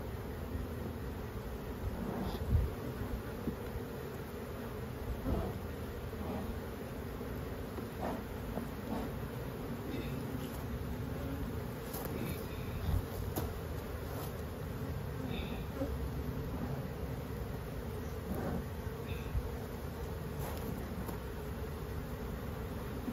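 Honey bees from a single hive swarm around a beekeeper during a frame swap, giving a continuous close buzzing drone with occasional louder passes near the microphone.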